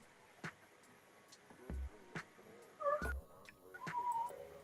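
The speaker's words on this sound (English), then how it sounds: "She has the most adorable little meow." A small pet cat lets out a few soft, short meows and chirping trills in a quiet room, faint and close, with light handling noises between the calls.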